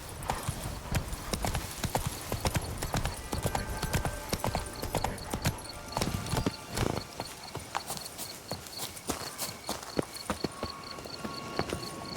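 Rapid, continuous clip-clop of a horse galloping in The Witcher 3: Blood & Wine, close and crisp hoofbeats running steadily throughout, with a faint background hum.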